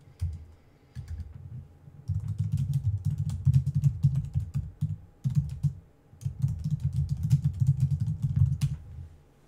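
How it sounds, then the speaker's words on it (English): Keys tapped on a computer keyboard during a livestream, a steady close clatter of strokes riding over a loud low rumble that swells and drops in long stretches. "I'm typing this"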